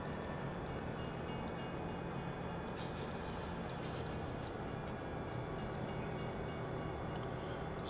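A train in Farming Simulator 17 rumbles continuously at a steady low level, a constant mechanical drone with no voices.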